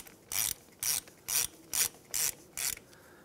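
A hand ratchet snugs up a front brake hose banjo bolt on a 2003-2011 Honda Element, six evenly spaced bursts of clicking close by, separated by short pauses.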